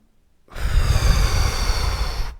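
A strong, forceful exhale during a sophrology breathing exercise begins after a brief silence and then holds as a steady, close, breathy rush for about two seconds, with no talking.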